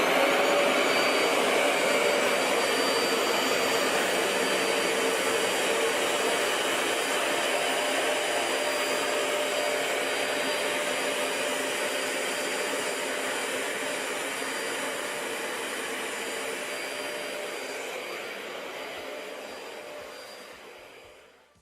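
A Bissell ProHeat 2X Revolution Pet Pro carpet cleaner runs close up with a loud, steady vacuum-like roar and whine for about twenty seconds, then slowly winds down and falls silent at the end.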